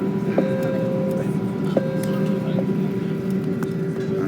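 An airliner taxiing at Zurich airport, heard from inside the cabin as a steady low engine drone and hum with faint whine tones and a few brief clicks, voices faintly under it.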